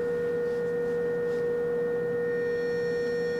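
An electronic test tone passes through a tunable filter built for an audio engineering demonstration, holding as a steady, pure hum with faint harmonics over low background hiss and no talking.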